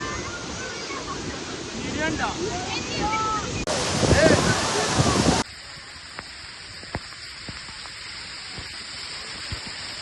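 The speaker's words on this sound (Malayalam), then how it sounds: "ആ ടോപ്പിൽ നിന്ന് തന്നെ വീണ വാട്ടറിൻ്റെയൊക്കെ ഫോഴ്സ് നല്ല ഫോഴ്സിലാണ്ട്" A waterfall crashes down forcefully from the top, producing a loud, rushing roar buffeted by wind noise. The roar then cuts abruptly to a much quieter outdoor ambience.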